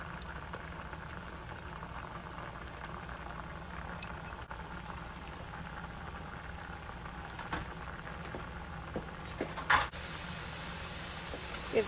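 Noodles boil in a pot on the stove, giving a constant low bubbling and hissing that holds steady throughout. Brief clinks and a louder burst come near the end.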